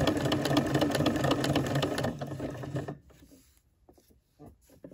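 A sewing machine stitches a wide zigzag through fabric for a coiled rope bowl, running as a fast, loud, even mechanical rattle for about three seconds before stopping. Faint handling noises follow.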